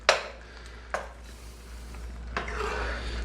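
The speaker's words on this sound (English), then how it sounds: "And then I just stir it up like this." Spaghetti sauce with wine stirred in a cast iron skillet, a few distinct scrapes and knocks of the spoon against the pan at the start, middle and near the end, over a low steady hum.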